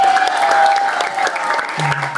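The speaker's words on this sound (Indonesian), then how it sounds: "tepuk tangan buat beliau." An audience at a Ramadhan pesantren gathering claps steadily in loud, close applause that holds for a couple of seconds.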